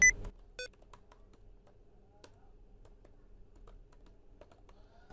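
Someone types on a desktop computer keyboard in scattered, soft clicks spread across several seconds, preceded by a couple of brief beeps at the start, in a quiet room.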